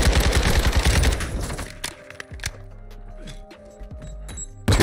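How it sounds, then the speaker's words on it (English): Rapid bursts of automatic gunfire in Call of Duty Modern Warfare II, loud and dense for the first two seconds, then scattered sharp shots and clinks over a quieter stretch before a final loud burst. "He's shooting at the window."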